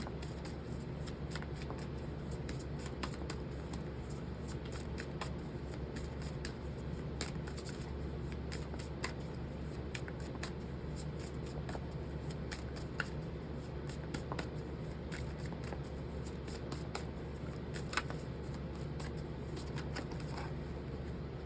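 Tarot cards are shuffled and handled steadily and up close, with soft riffling and small crisp flicks and taps over a constant low background hum, and no voices.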